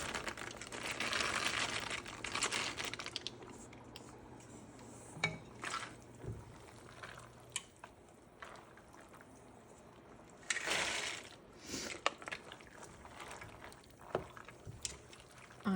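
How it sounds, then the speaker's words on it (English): Dried black-eyed peas rattling and pouring into a simmering pot for Hoppin' John, in bursts of clattering and crinkling with quieter gaps and occasional knocks of cookware. "I'm going to go ahead and slowly add in these black-eyed peas."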